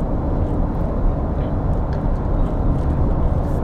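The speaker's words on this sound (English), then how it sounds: "Tire noise is clear, but not deafening." Steady low tire roar inside a 2021 Toyota Sienna Limited minivan cruising at about 60 mph on the highway, a constant broadband rumble with no speech.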